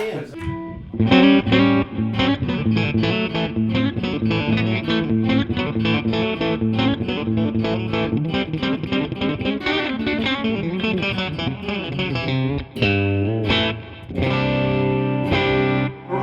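Electric guitar through a 1964 Fender Blackface Deluxe non-reverb tube amp, strummed chords ringing out with a bright, slightly driven tone, steady and close with a brief pause near the end.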